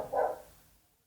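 A single short dog bark, muffled and somewhat distant, fading quickly into quiet.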